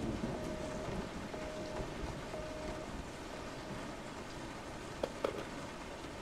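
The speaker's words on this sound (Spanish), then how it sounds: "Y ahora es de noche y está lloviendo." Steady video game rainfall at night hisses throughout at moderate level, with a couple of brief knocks near the end, in Resident Evil 7.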